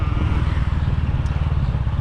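Steady low engine drone and rumble from a motorcycle on the road in Thailand near Phuket, heading toward Koh To Sai, continuous and close throughout with no talk.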